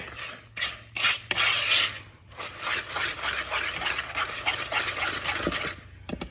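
A whisk is scraped and tapped against a bowl to force out thick pecan pie filling, giving bursts of close rubbing and scraping with sharp knocks between them, no voices.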